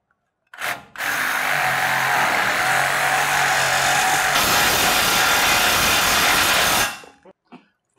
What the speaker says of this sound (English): I'm going to try this with my Sawzall to see if I can get it to cut out.